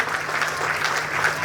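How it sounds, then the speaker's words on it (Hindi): An audience at an evening bhajan gathering applauds, dense and fairly loud steady clapping from a crowd with no talking during the brief burst. "पप्पू जी बेधड़क के लिए एक बार जोरदार ताली"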